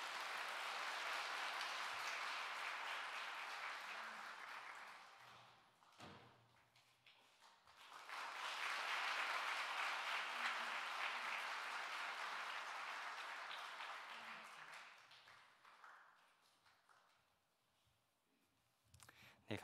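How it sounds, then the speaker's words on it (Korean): An audience in a church claps to welcome a guest at a dedication and ordination thanksgiving service, with two bursts of steady applause separated by a brief lull, fading softly at the end. "박수로 환영하겠습니다."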